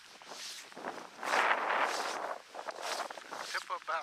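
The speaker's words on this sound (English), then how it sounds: "The wind is ferocious." Strong wind blows across a frozen lake during ice fishing in light snow, buffeting the microphone in loud rushing gusts that swell and fade over a few seconds, with faint crunching movement underneath.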